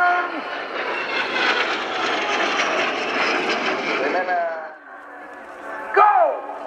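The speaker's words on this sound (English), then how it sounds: "the six aircraft will perform a looping following by a low pass in chopper formation." Jet aircraft of the Spanish Air Force's Patrulla Águila display team roar past overhead at the RIAT 2018 air show, a broad loud rush that fades, followed by a brief closer whoosh; a voice talks over it.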